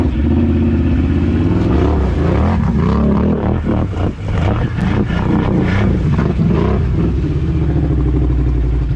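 Bombardier Can-Am Outlander ATV on new wheels and tires driving in two-wheel drive, engine loud and close, revving and dipping with clattering underneath over nine seconds.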